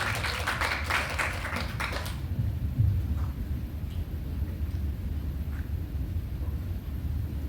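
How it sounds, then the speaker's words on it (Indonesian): Audience clapping at an Indonesian talk show segment, a burst of applause for the first two seconds that quickly fades under steady low room rumble. "Mari kita beri tepuk tangannya dulu untuk Bapak Eka."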